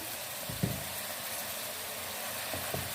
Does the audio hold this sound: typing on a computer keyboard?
no